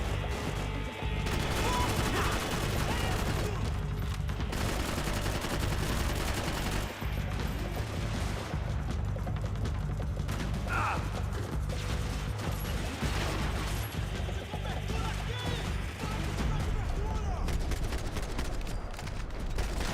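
Scattered gunshots and mechanical clatter from the Max Payne 3 video game, fairly faint and continuous beneath a steady game soundtrack, with occasional sharper impacts.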